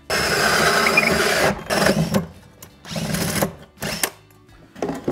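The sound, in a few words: hole saw drilling for plumbing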